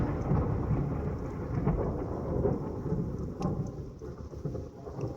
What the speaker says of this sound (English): it's one squall line after another, and it's got lightning with it